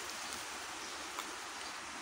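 Monsoon rain falls steadily outdoors, a soft, even hiss of drops that stays faint and continuous with no voices.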